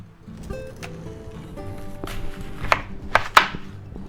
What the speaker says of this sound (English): that's a big onion. All right, guys, let's cut that in half